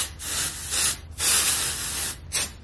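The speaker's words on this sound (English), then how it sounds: "I'm only gonna spray half my hair" Hair spray hisses out in three bursts, a short one, a longer sustained spray, then a brief final puff, close to the microphone.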